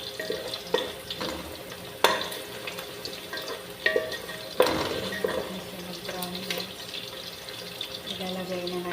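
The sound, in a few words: onions frying and browning in a pan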